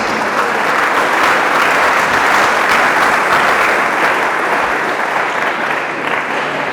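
A church congregation claps loudly and continuously in worship, a dense, steady applause that fills the whole clip with no break.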